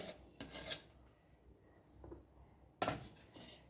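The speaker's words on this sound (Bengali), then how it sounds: "এরকম করে একটু একটু করে গুড় নিয়ে আস্তে আস্তে মাখতে হবে" Hands knead flour dough with jaggery for pakan pitha, giving faint, intermittent rubbing and squishing sounds in a few short bursts with quiet gaps between.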